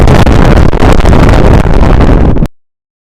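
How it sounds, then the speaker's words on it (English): Loud, roaring wind buffets the microphone in constant gusts, then cuts off abruptly near the end. "Windy."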